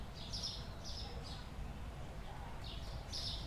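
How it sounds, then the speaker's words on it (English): Birds chirp at night in the game Supermarket Simulator, with bright twittering bursts that repeat every second or so over a steady low ambient rumble, loud and close. "Why in the world are the birds so loud?"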